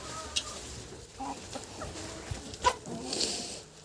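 Hens in a farmyard, moulting, cluck softly here and there, a few short calls at moderate distance over low background noise.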